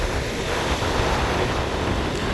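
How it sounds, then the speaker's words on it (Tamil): Large sea waves breaking on a shore in strong wind: a loud, continuous roaring wash of surf with heavy wind buffeting throughout, no distinct individual wave crashes standing out. "இங்கே அலைகள் வந்து பெரிய பெரிய அலைகள் வருது"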